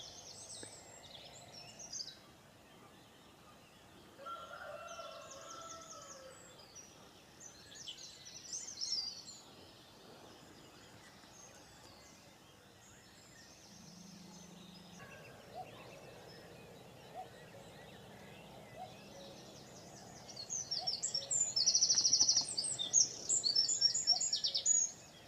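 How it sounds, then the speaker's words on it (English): A cockerel crows among other birds calling around a fishery, all faint and distant, with scattered chirps and tweets over a quiet outdoor background that gets busier toward the end. "The bird life here is incredible. Even the cuckoo and the cockerel."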